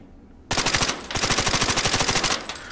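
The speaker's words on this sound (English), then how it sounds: "most of the time you hear is the action of the gun going. And not the actual bullets being fired out." An integrally suppressed AS Val rifle fires in the VR game Hot Dogs, Horseshoes and Hand Grenades: a short pause, then a rapid, loud full-auto burst of clacking mechanical reports lasting about two seconds.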